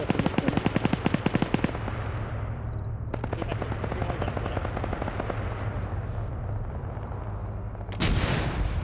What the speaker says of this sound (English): mortars landing on this position now